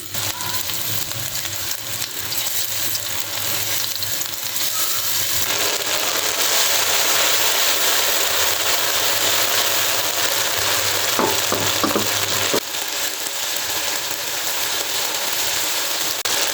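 Beef pieces frying in hot ghee in a kadhai give a loud, steady sizzle that holds without a break, with faint stirring scrapes near the end.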